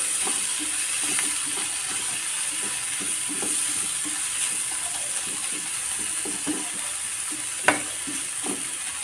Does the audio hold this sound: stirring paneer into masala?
yes